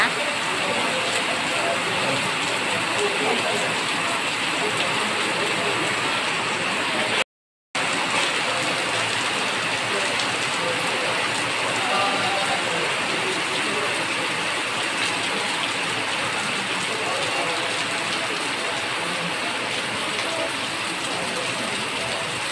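Heavy rain pours down steadily as a loud, dense wash of noise near the listener, broken by one brief cut to silence, with no talk over it.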